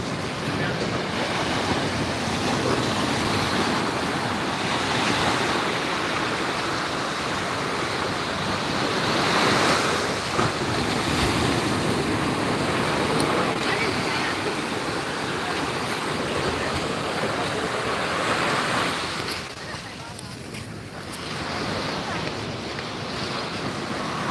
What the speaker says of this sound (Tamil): நல்லா இருக்குது கடலுடைய அலை சத்தம்